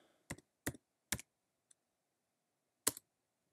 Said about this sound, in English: all we're going to do is type in iPhone